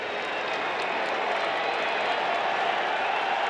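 Baseball stadium crowd on its feet during a late-inning no-hitter bid, Tampa Bay Rays at Los Angeles Angels: a dense, steady roar of cheering and applause filling the whole stretch, with faint voices mixed in.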